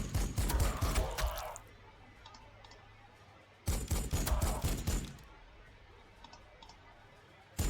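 Potshot gunfire in the strategy game Warhammer 40,000: Sanctus Reach, heard as two loud bursts of rapid crackling shots separated by a quieter lull with faint ticking.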